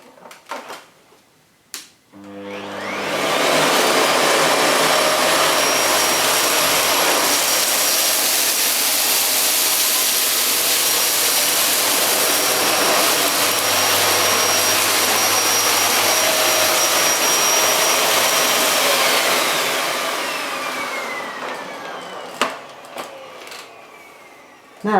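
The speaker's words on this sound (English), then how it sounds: "clean the floor using the Miele S7 on its hard floor setting, which means the brushes are switched off, and we're going to have it on maximum suction power" A Miele S7580 upright vacuum cleaner on its hard-floor setting, brushes off and at maximum suction, roars loud and steady for about eighteen seconds, with a whining rise as it starts and a falling tail as it stops.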